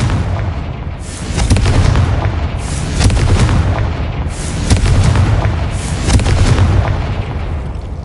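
Repeated Confringo spell blasts in Hogwarts Legacy, several loud booming explosions in waves roughly a second or two apart, each with a crackling burst and rumbling tail, no talking.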